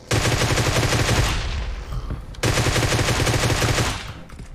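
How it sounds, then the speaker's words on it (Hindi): Automatic gunfire in PUBG Mobile crackles in rapid, loud bursts close by. One long volley pauses briefly, then a second heavy burst follows before it tapers off. "मुझे ये भी नहीं पता कि वो कहां से गोलियां चला रहा है"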